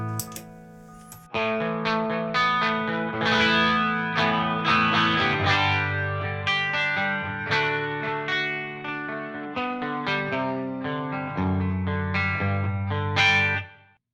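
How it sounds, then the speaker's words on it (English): Electric guitar playing chords and melodic lines through a Line 6 Helix Double Take stereo doubling effect that gives a wide, layered, double-tracked sound, loud and sustained, with no voices. "which is going to give you the experience that the sound has been double tracked."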